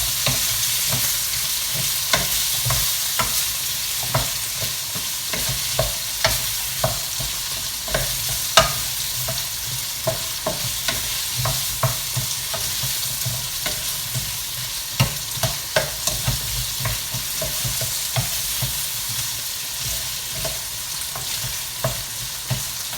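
Pumpkin and bacon pasta sizzles on high heat while a utensil stirs and scrapes through it, giving a constant frying hiss broken by repeated clicks and taps against the pan.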